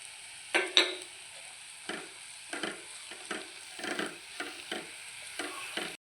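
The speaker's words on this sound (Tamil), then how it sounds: "இப்போ இதை நம்ம நல்லா வதக்கிக்கலாம்." Turmeric and chili powder sautéing in oil for mango thokku give a quiet, soft sizzle, punctuated by a series of distinct scraping strokes from a spatula stirring the pan at an uneven rhythm.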